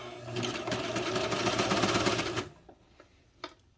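Serger stitching clear elastic onto fabric, a loud rapid mechanical whirring for about two and a half seconds that stops abruptly, followed by a few soft clicks and a small knock.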